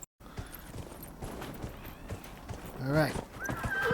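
A horse in Dragon Age Inquisition clops along with steady hoofbeats, then lets out a loud, close neigh near the end, while a voice speaks a single brief word over it.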